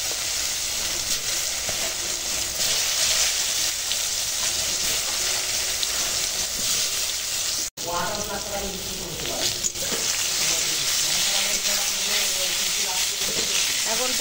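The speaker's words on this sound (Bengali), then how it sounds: "এখন পটল ভেজে নিচ্ছি।" Pointed gourd (potol) fries in hot oil in a village kitchen, a steady close sizzle with stirring scrapes throughout, broken by a short gap midway, after which a voice speaks over the frying.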